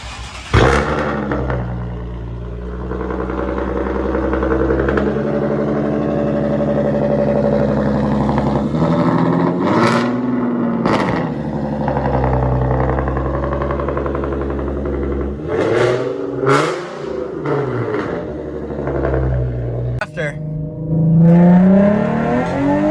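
A car engine fitted with test pipes and a straight pipe starts up and revs loud and close, climbing and dropping in repeated sharp bursts with a raspy, droning idle between them.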